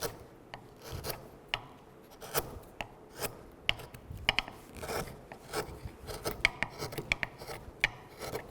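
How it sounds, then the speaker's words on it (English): A wood chisel, worked by its corner, cuts across the grain while carving a decorative shell, giving a slow series of close, scraping and tapping cuts with short pauses between strokes. "I'm using the corner of the chisel and try to do cross the grain."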